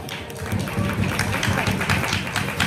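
Scattered clapping from a small audience at a magic-themed restaurant show in São Paulo, steady for a few seconds, with a voice faintly in the background.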